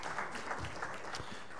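A church congregation at a Sunday service gives a short, light round of applause, a soft patter of clapping that lasts under two seconds.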